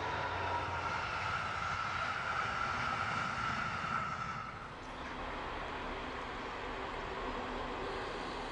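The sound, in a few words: DB class 218 diesel locomotive train at about 120 km/h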